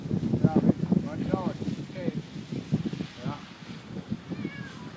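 A cat stuck in a tree after five cold days in Saint Francis, Minnesota, meows repeatedly in drawn-out cries, with people calling and talking nearby amid wind noise and rustling.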